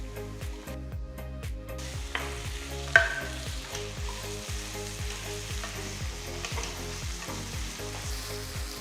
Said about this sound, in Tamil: மூணு பொடியை நறுக்கின தக்காளி போட்டு கிண்டுங்க